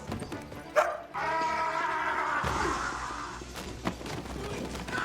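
A cartoon dog barks and yips in a brief, loud burst amid chaotic fight noises, with a short whimpering yelp near the end and a busy, bright cartoon soundtrack throughout.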